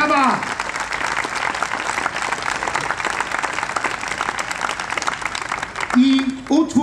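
Audience applause at a festival opera/operetta premiere in Poznań fills the hall with dense, steady clapping, and a voice speaks over the final second.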